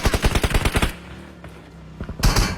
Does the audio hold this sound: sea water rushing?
no